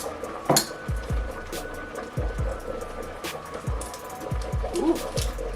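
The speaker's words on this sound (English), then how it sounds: "now I'm gonna cut off 1 tablespoon of butter" Knife cutting a tablespoon of butter in a home kitchen while making chicken pesto pasta with Alfredo sauce, heard as a string of short, close knocks of the blade against the board amid light clinks of dishes and utensils.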